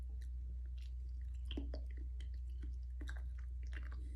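Close, quiet chewing on sinew to soften it for hafting a stone knife blade, with irregular soft wet crunches and squishes over a steady low hum.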